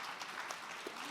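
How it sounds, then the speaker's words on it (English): A plenary session audience gives the panelists a round of applause, a brief, even patter of many hands clapping at moderate volume. "So a big round of applause to our panelists."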